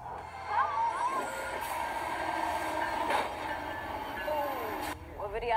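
A train rolling past on railroad tracks in the Lehigh Valley, a steady loud rumble with rattling wagons and brief wheel squeals, a sharp bang near the end, and a voice speaking over it.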